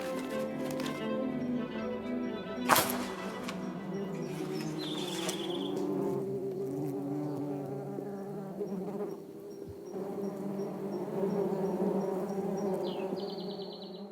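Hornets drone around their nest hanging in the air, a continuous layered buzz of many insects near and far, with one sharp tick and a faint high tone partway through, no speech.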